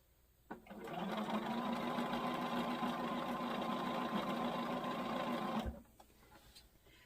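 A sewing machine built to sew, quilt and embroider runs steadily for about five seconds, a close, even mechanical whir with a constant hum that starts and stops cleanly.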